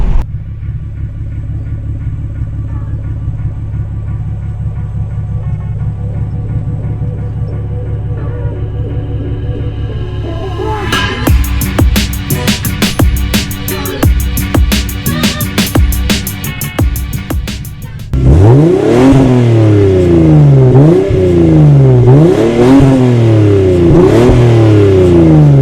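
A Lexus SC300 with a custom-built exhaust sits idling with a low steady rumble, then blips its throttle in a quick run of sharp revs before settling into loud, repeated rising-and-falling revving close by.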